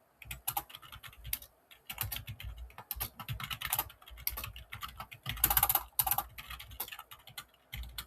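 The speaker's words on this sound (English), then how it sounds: "I'm gonna write down the basic code first." Someone types code on a computer keyboard, with quick clusters of close, crisp key clicks separated by brief pauses.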